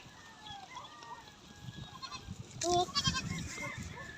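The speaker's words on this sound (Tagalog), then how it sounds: "Sarap magpakain guys ng kambing oh." Goats bleat and feed in a pasture amid farmyard noise, with honking fowl calls and scattered rustling and chewing sounds, one loud bleat standing out partway through.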